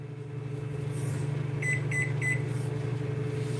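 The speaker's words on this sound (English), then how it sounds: "I pop these tortillas in the microwave for about" A microwave oven hums steadily while heating tortillas, with a low mains drone throughout and three short electronic beeps in quick succession partway through; no one speaks.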